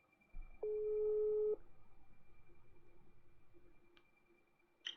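A telephone call being placed: a single steady tone sounds for about a second, then a faint pulsing ring-back tone repeats evenly in the background, with no talk.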